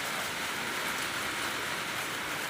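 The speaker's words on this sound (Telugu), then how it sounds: "ఫ్రెండ్స్ ఇవ మా ఇంటికాడ అయితే పైన చాలా వర్షం పడుతుంది." Heavy rain pours down outside a home, a steady, dense hiss of falling water with no pauses and no voices.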